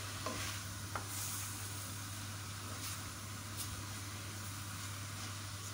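Onion frying with fish bones in a pot for fish soup, a steady soft sizzle with occasional faint stirring scrapes and clinks, fairly quiet and continuous, with no talk.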